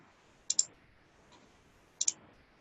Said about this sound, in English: And I click save.